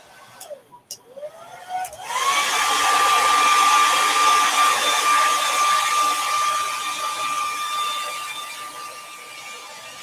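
A dryer blows air to dry a painted wood craft tray, starting with a few short bursts, then switching on into a loud, steady, close whirring hum that continues alone to the end.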